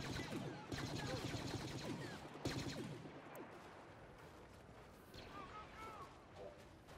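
Gunfire in the video game Star Wars Battlefront, with rapid blaster volleys crackling in dense bursts over a constant battle din, moderately loud then thinning out toward the end.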